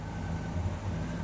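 A 1971 GMC truck engine running steadily, a low, even idle hum with a faint rhythmic pulse, close and moderately loud with no talking.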